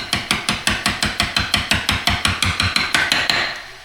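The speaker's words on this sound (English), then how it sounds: "This is a brass hammer" A brass hammer taps steadily on steel gear parts of a DK-16 Weka core drill, about seventeen sharp, evenly spaced close strikes with a brief metallic ring after each, and no talking.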